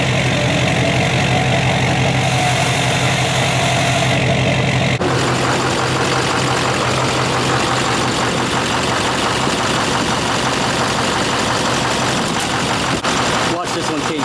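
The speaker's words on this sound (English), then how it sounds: "let's go ahead and fire up the LBZ" A Duramax LBZ diesel in a pickup truck with blown head gaskets fires up and settles into a steady, loud idle, a constant low rumble with knocking texture filling the whole stretch.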